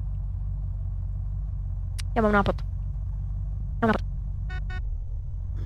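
Video game car engine in Unturned, a low steady idling drone running throughout while someone speaks briefly over it.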